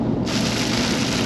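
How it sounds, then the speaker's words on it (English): Rain starts falling abruptly outdoors near a truck, a sudden broadband hiss of steady rain on surfaces that sets in within a fraction of a second and continues loud and close. "Oh, here comes the rain."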